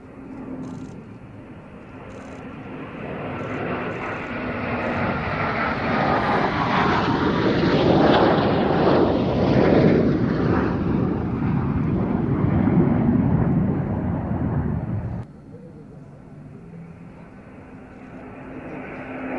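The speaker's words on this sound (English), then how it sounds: "Ladies and gentlemen, the missing man formation." Several aircraft fly past in missing man formation at the Midlands Air Festival, a broad engine roar swelling over about ten seconds to a loud peak overhead, then cutting off abruptly and fading to distant ambient noise.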